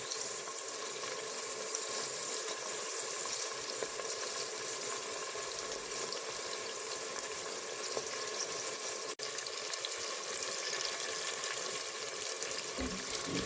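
Fresh green beans sauté in a pan, giving a steady close hiss and sizzle with fine crackles throughout and no voices.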